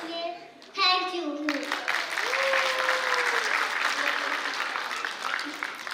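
An audience at a school annual function breaks into loud, sustained applause after a short sung or spoken moment, the clapping filling the hall and continuing steadily to the end.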